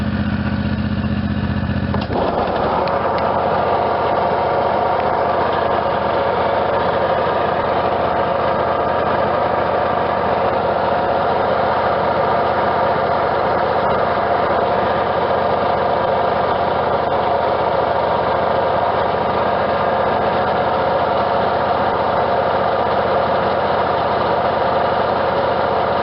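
A Dixon ZTR 5022 zero-turn mower engine runs steadily, then the PTO engages with a clunk and the mower deck spins up, and a loud, even drone holds under the running engine.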